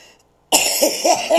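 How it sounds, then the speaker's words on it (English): After a short silence, a deep, rough cough bursts out loud and close, followed by a couple more hacking coughs. "that sounds really deep, that cough"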